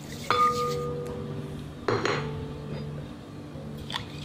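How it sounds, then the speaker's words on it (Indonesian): Utensil clinking against a pot or bowl while sugar is stirred into warm milk and water for apple roll bread dough, with a sharp metallic clink near the start and another around two seconds, then softer scraping. "Diaduk dulu sampai larut."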